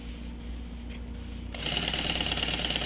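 A sewing machine runs a continuous seam on a double toiletry bag with lining, starting after a quiet moment and then whirring steadily at close range until the end.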